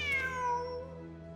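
A cat in the video game Genshin Impact gives a single clear meow with a falling pitch, close and alone over a quiet background.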